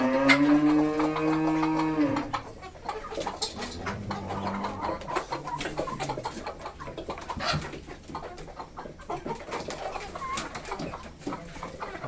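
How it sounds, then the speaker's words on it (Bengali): Desi chickens cluck and call inside a poultry farm shed, one loud drawn-out call at the start followed by scattered clucks and fluttering throughout. "মাশাআল্লাহ, মুরগি আমার খুব সুন্দর হয়েছে"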